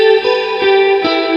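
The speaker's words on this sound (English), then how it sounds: "But the chorus itself, it sounds really good." Electric guitar played through a Quad Cortex Jazzmaster patch with chorus, producing shimmering sustained chords with a wavering, swirling texture, loud and alone, with a few soft note changes ringing over each other.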